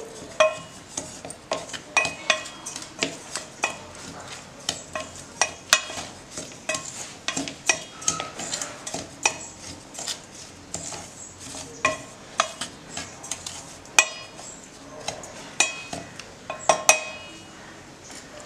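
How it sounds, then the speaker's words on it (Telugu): A spoon scrapes and clinks against a metal bowl as turmeric is stirred into an Andhra-style cucumber pickle (dosa avakaya) mixture, with repeated sharp taps and sustained scraping, close and fairly loud, with no talk. "ఇప్పుడు ఇదంతా ఒకసారి మనం బాగా కలిపేసుకుందాం"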